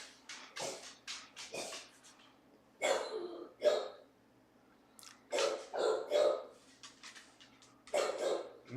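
A dog barks repeatedly in loud, close bursts from inside a house, reacting to people walking past outside, with short pauses between the volleys.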